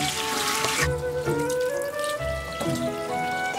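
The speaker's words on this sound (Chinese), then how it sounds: "挑出杂质，反复清洗几次。" Sea shrimp rinsed under a running kitchen tap, a steady close splash of water into a sink with small shifts as the shrimp are moved, no voices.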